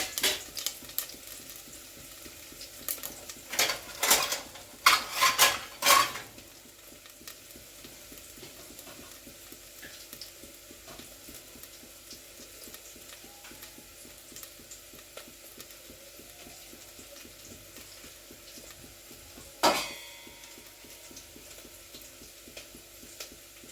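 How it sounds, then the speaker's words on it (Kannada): Onions and spices fry in a pot for mutton biryani with a low, steady sizzle, broken by a cluster of scraping stirs near the start and one more sharp scrape later on. "ಮಸಾಲ ಇದೆಲ್ಲ ಹಾಕಿ ಸ್ವಲ್ಪ ಫ್ರೈ ಆಗಲಿದ್ದು"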